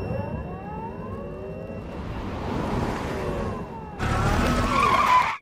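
In a cartoon, a self-driving car pulls away with a rising engine whine, then breaks into a loud, sustained tire skid that cuts off abruptly; no one speaks over it.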